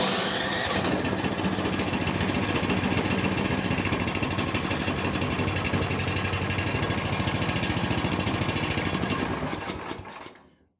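Small gasoline snowblower engine, just serviced, runs continuously at a steady, loud, close clatter for about ten seconds, rough and slightly uneven, then dies away at the end; no one speaks.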